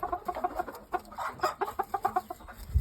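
Shamo game chickens cluck in quick, uneven bursts close by, with overlapping calls from several birds throughout and a low thump near the end.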